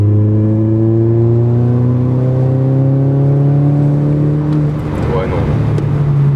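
A car engine revs up to around 4000 rpm, its tone climbing steadily and loudly as the car accelerates, then a rougher surge comes near the end.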